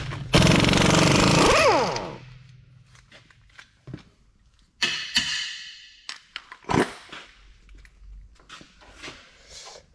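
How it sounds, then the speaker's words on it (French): A burst of loud grinding mechanical rattle, like an impact wrench, works on the driveshaft of a Peugeot 106 for about two seconds, followed by quieter clanks, taps and scrapes of tools in a workshop. "On va desserrer le cardan."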